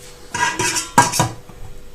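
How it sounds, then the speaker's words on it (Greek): A metal lid set onto a pot of stuffed vine-leaf dolmades in olive oil and water, giving a few close, sharp clinks and a scrape over about a second, with no talking. "Θα καλύψουμε την κατσαρόλα με το καπάκι"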